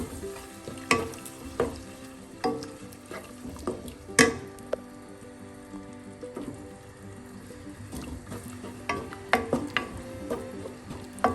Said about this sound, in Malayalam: വെള്ളം കൂടെ കിടന്നൊന്ന് തിളക്കട്ടെ